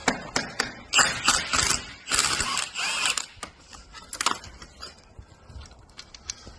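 Caliper retaining bolts on an Iveco 75E15 rear axle are worked loose with a ratcheting tool, giving rapid close clicking bursts, dense at first and then sparser clicks and clanks.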